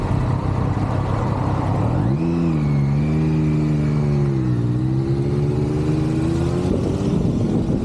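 A Triumph Daytona 675R motorcycle revs up and accelerates hard onto a highway, its close, loud engine note climbing steadily through the gears over steady wind and road roar, with no talking.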